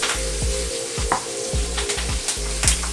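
Ribeye steak on the bone sizzling loudly in a pan with garlic and jalapeno as it is basted, a constant close frying hiss broken by rhythmic spoon scrapes and clinks against the metal.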